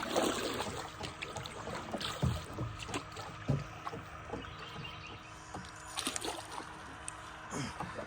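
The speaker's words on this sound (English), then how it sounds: "it feels good to be back in the old canoe down here, paddling around in the swamp." Paddle strokes and water splashes from an old canoe moving through a swamp, soft rhythmic dips and drips close by over a steady outdoor background.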